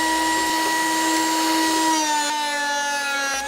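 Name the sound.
jointer planing glued maple wood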